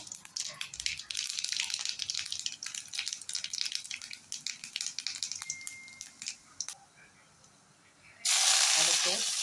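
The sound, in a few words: mustard seeds crackling in hot oil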